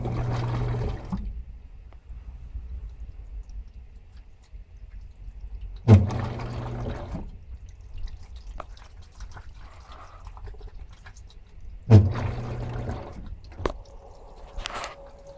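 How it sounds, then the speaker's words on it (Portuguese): An Electrolux Turbo Capacidade Premium 13 kg washing machine on a jeans program fills with water, with a quiet steady inflow hiss broken by three louder bursts of rushing, churning water spaced about six seconds apart. "Ela vai iniciar a entrada de água."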